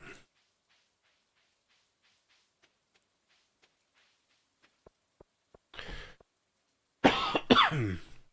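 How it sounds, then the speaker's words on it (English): After quiet with a few faint clicks, a person gives a brief cough, then a louder, harsher fit of coughing close to the listener. "Again, I'm very sorry for any coughing."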